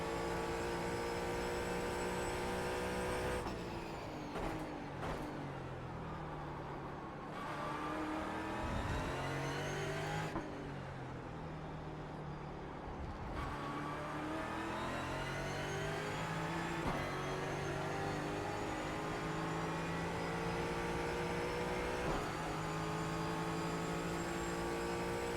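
Engines of a Porsche and a Mustang GT4 race car in a racing game at Indy drone continuously, a sustained buzzing roar with gear shifts and revs rising and falling, no voices.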